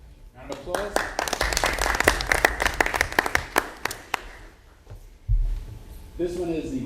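A school board meeting audience gives a short burst of applause. Dense clapping builds and fades over a few seconds, and people talk before and after it.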